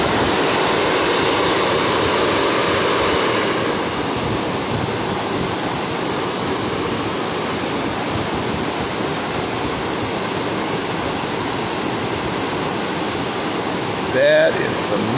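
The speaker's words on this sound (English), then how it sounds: "That is some mad rushing water." Storm water at Lake George after heavy rain rushes in a steady, loud broadband roar like a waterfall, constant throughout with a brief faint thump near the end.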